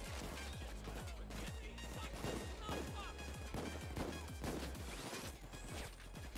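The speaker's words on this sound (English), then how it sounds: "Who's shooting me?" Dense gunfire crackles without a break in the video game PayDay 2 during the Santa's Workshop heist, with rapid loud shots close by under a constant wash of action noise.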